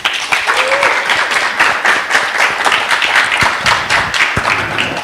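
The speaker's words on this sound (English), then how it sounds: "they deserve a big round of applause" Audience applause for young artists at an arts salon conversation event: dense, steady clapping from a crowd that fills the whole stretch, close and fairly loud, with a few scattered louder claps and faint voices mixed in.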